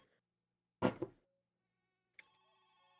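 Telephone ringing in the video game My Summer Car: a steady repeating electronic ring that starts partway through and pulses evenly to the end, after a short burst of louder noise and a quiet gap.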